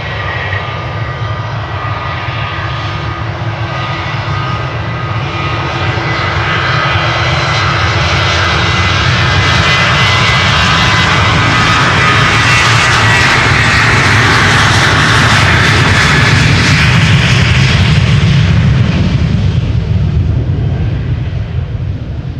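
A jet airliner bound for Manchester takes off from Schiphol's Polderbaan runway, its engines building to a loud, close, rumbling roar that swells and holds for the whole stretch, with no talk.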